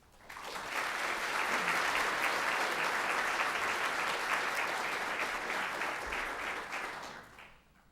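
Sustained audience applause at a science colloquium welcoming a guest speaker, a dense, even wash of clapping that swells in, holds steady for several seconds with no talking, then tapers off at the end.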